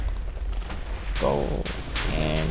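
TNT exploding in the Minecraft minigame TNT Wizard: a couple of booming blasts in quick succession, loud and close, with a player's voice talking over them.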